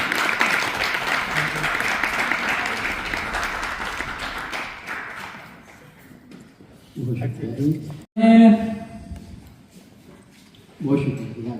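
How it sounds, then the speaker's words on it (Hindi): An audience applauds at a community event, a full wash of clapping that fades over several seconds, followed by bursts of talking. "तालियां ये शेख खान साहब के लिए।"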